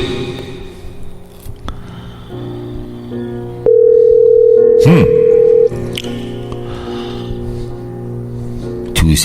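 A telephone call is placed: short dialing tones, then a loud, steady electronic tone holding for about two seconds, mixed with a squelchy thump and other clutter before and after.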